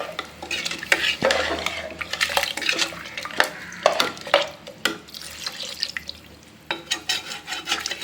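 Water added and stirred into mutton curry in a pressure cooker pot, with repeated scraping and clinking of a spoon against metal in an uneven rhythm, close and fairly loud.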